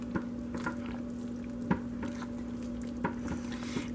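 Shea butter and cocoa butter being stirred into a pot of hot process soap, with soft scraping strokes and occasional taps of the spoon against the pot over a steady low hum.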